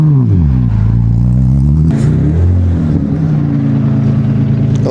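A rally car at the finish of a gravel rally stage in Ukmergė, its engine loud and close, revving and shifting pitch under throttle for several seconds with no talk over it.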